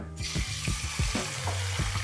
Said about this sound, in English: When you can hear the sizzling sound, that means your temperature is right